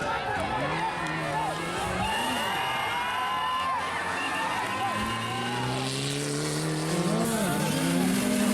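A Mitsubishi Lancer Evo 9 rally car races along a stage, its engine revving and shifting loudly with rising and falling pitch, under steady background noise and a narrator's voice.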